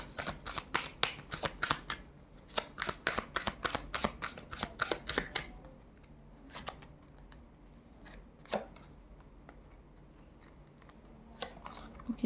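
Tarot cards are shuffled in a quick, rhythmic riffle of crisp flicks, close and clear, before the sound thins into a few scattered card snaps. Nobody talks.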